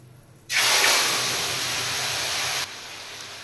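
Marinated hilsa fish dropped into hot oil in a wok, a sudden loud, dense sizzle that holds steady for about two seconds, then drops to a softer frying hiss.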